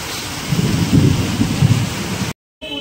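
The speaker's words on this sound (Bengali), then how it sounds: "তার সাথে মেঘও ডাকছে ভীষণ।" Low thunder rumbles through a loud, steady downpour of heavy rain at a roadside, swelling for about two seconds before the sound cuts out abruptly, then a short noisy bit follows.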